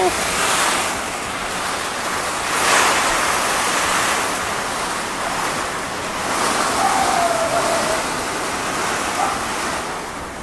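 Storm wind and rain blow into a house, splashing onto a bed, as a loud, continuous roar that swells and eases in gusts, with no clear talking.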